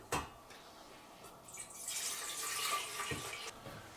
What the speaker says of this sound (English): This second pot of 8 cups of water are going to go into my steam kettle